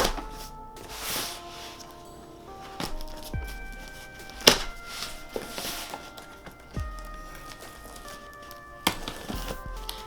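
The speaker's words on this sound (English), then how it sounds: "we'll get our nice trusty unboxing sword and cut right into this" A knife cuts into the cardboard packaging of a Nintendo Switch Splatoon 2 bundle, making scattered slicing, tearing and tapping sounds up close with brief sharp cracks and quiet gaps.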